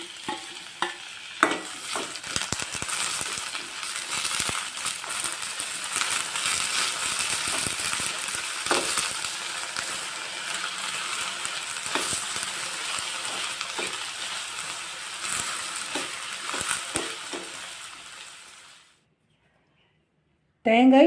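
Chopped ivy gourd (kovakkai) sizzles in hot oil in a pan while being stirred, a continuous crackling fry with scraping clicks over faint talk, cutting to near silence at the end.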